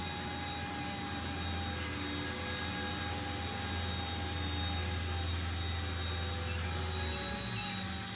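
Small Eachine E120 BO-105 RC helicopter rotor blades spinning steadily in a light breeze, a constant loud whirring drone with a high electric whine, close by and unbroken, with no talking.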